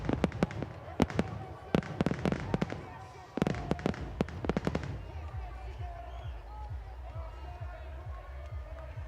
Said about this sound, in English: Listen to those fireworks.